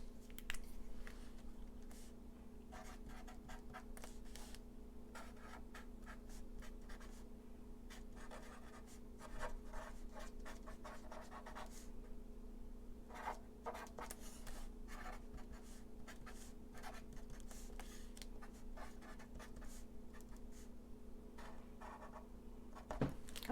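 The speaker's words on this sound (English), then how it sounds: "So let's write that down." A pen scratches across paper in a papercraft mini album project, producing quiet close scribbling strokes in irregular bursts over a low steady hum.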